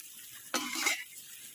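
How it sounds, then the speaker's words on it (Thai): Straw mushrooms dry-roasted in a pan, a single brief scraping stir and rustle rising from quiet and fading over about half a second. "หลังจากนั้นก็ให้เรา คั่วเห็ดต่อครับ"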